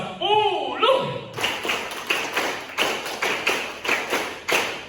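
At a school halal bihalal and parenting gathering, a voice speaks briefly, then a group claps in a steady rhythmic chant pattern, a series of sharp, evenly spaced unison claps repeating several times.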